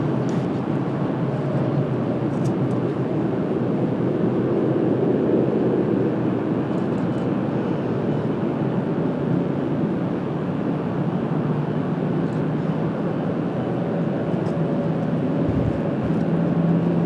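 A Boeing 777 airliner comes in through low cloud at Washington Dulles on an overcast day, a steady rumbling engine drone with a low, heavy tone lasting throughout.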